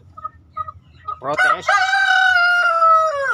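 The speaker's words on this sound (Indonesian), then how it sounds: "ayam-ayam jago lain pasti juga akan ramai" Bangkok fighting roosters kept as breeding cocks crow loudly and close, one long drawn-out cock-a-doodle-doo following a few short clucks, with other fowl faintly audible in the background.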